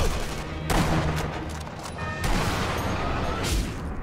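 Gunfire in the Sniper Elite V2 video game, a dense, loud wash of shots and booms running through the whole stretch, with a few sharper bursts standing out.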